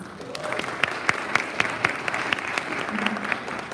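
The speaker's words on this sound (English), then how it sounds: "Give her another round of applause." Applause at a Rotary club year-end review meeting, steady clapping from a seated audience with a few sharper claps standing out, moderately loud and continuous throughout.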